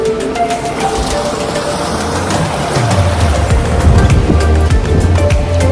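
Water runs along a small drainage channel beside a bridge culvert dating from British times, a steady broadband rush that grows louder midway, with low rumbling underneath and no voices.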